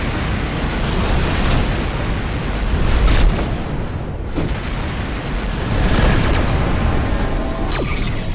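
Missile explosions in the space combat game Rebel Galaxy, heavy rumbling booms and bursts swelling and fading over a loud continuous battle din, with a few sharper cracks.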